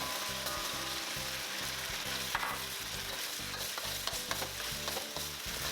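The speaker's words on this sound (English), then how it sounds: "we're gonna stir fry the chicken until it is completely cooked for about 3 minutes" Chicken stir-frying in a wok with sauce for Kung Pao chicken, a loud continuous sizzle with regular rhythmic scraping strokes of the spatula tossing the pieces.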